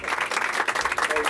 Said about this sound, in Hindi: इनके लिए तो तालियां होनी चाहिए सबसे पहले